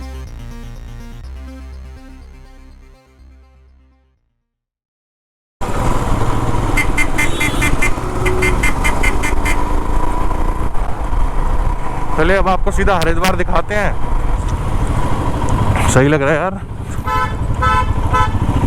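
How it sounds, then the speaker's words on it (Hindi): Horns honk repeatedly in weekend traffic around Haridwar, Uttarakhand, heard from a motorcycle on a solo ride, with several loud, wavering blasts close by over a constant engine and wind roar while someone talks. "यार ये बंदा हॉर्न ही बजाया जा रहा है तब से, दिल्ली वाला"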